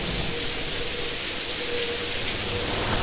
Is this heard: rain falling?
yes